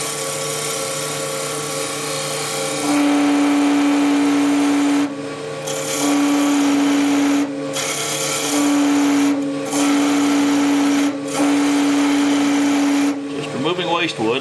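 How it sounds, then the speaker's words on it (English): A wood lathe runs with a steady tonal whine while a spindle gouge cuts end grain, removing waste wood a little at a time, the loud cutting hiss dropping out briefly several times between passes. "Just removing waste wood a little bit at a time."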